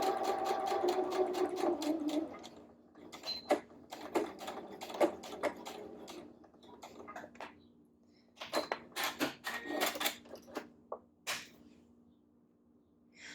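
A sewing machine stitches a V-neckband in short, close bursts of rapid needle chatter, separated by pauses for pivoting the fabric and lifting the presser foot.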